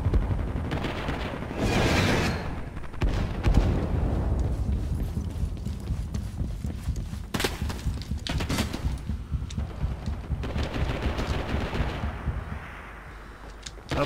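Dense, continuous gunfire with repeated heavy explosions in the video game Rising Storm 2: Vietnam, set in Hue City, booming throughout, loud and chaotic like a battlefield, with sharp blasts standing out every few seconds.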